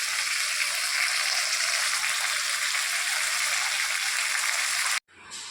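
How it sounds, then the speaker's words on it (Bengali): Fish spice paste sizzles steadily while being sautéed in a pan, a loud continuous bright hiss of frying that stops abruptly near the end, leaving only faint quieter sizzle. "বন্ধুরা দেখো, মাছের মশলাটা কষাচ্ছি"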